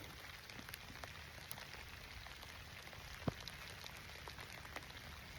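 Steady rain falling on a surface, a faint continuous patter with scattered sharper drips and one distinct louder drop midway.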